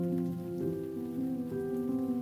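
Rain falls in a soft, steady patter, with sustained tonal sounds layered over it, evenly paced and calm throughout.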